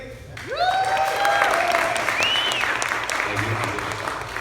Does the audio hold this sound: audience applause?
yes